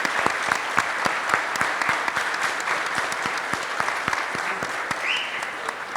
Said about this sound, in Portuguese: A gente pedir uma salva de palmas para todos da Goinfra